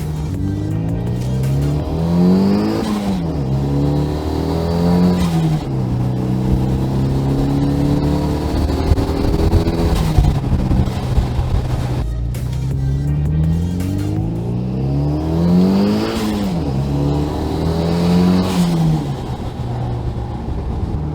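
Engine of an Audi car revs hard under acceleration, rising and falling in repeated sweeping pulls with loud, continuous roar and gear-change dips, no voices present.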